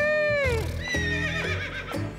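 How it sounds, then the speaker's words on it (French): A horse named Taco gives a loud close whinny, its high neigh sliding down in pitch, followed by shorter snorting bursts. "j'ai un cheval qui s'appelle Taco"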